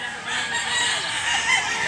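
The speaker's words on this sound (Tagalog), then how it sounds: "Napakagandang manok mga idol." A fine gamecock, a white-legged bullstag, crows loudly and close at an outdoor rooster sale, its drawn-out call filling the short clip over faint background bustle.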